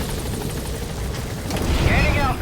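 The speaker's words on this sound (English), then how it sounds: "Let's go ahead and get on the chopper and leave the mission area." A helicopter in the video game Metal Gear Solid V lifts off from a mission area, a loud steady rotor roar filling the scene and swelling slightly as it climbs, with faint voice-like sounds partly mixed in.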